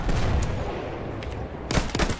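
Enemy machine gun fire in the Battlefield 1 game, a dense clattering barrage with broadband bursts. A few sharper, louder shots land near the end over continuous battle noise.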